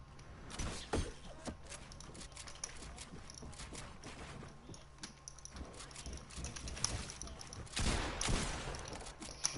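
Rapid gunfire from a shooter video game, bursts of sharp cracks and pops scattered throughout at moderate volume, with a heavier cluster of shots near the end.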